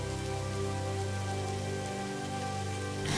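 Heavy rain pours steadily on a stormy night, a dense, continuous hiss with a low hum running beneath it and no voices.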